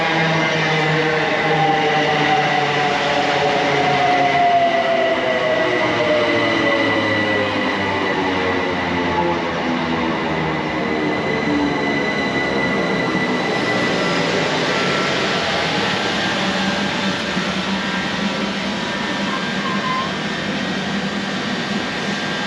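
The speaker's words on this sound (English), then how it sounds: "This train leaving for Fenchurch Street," A C2C electric train pulls out of Upminster Station bound for Fenchurch Street, its motors whining in rising then falling tones over a steady loud rumble that lingers as it draws away; no voices.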